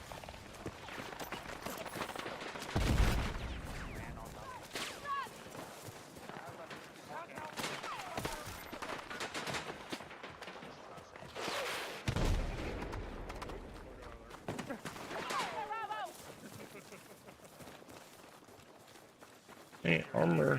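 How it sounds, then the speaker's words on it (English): Explosions from an airstrike and gunfire in a video game, with heavy booming blasts around the third and twelfth seconds and scattered shots and rumble between them, while a voice talks over the action. "Airstrike."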